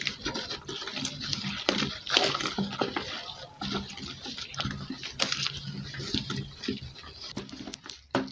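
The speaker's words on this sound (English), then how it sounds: "Keep stirring and stirring for everything to mix properly." Liquid soap mixture with SLS being stirred by hand in a container, a continuous close watery sloshing and patter with irregular swirling surges, no voices.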